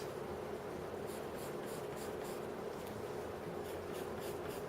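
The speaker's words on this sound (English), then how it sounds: "And I'm going to make sure to draw all those patterns." A pencil scratches across paper in steady, repeated strokes while drawing circle and line patterns, faint and close, with a rhythmic back-and-forth scraping over a constant low background noise.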